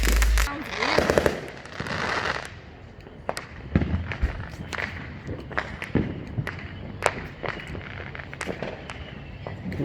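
Fireworks going off at a display, a run of sharp bangs and crackling pops scattered irregularly through the scene, with a louder burst early on and people talking in the background.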